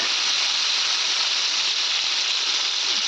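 Cucumber seeds sizzle in hot oil in a pan used earlier to fry green chillies, making a steady, close, bright hiss that holds evenly without a break.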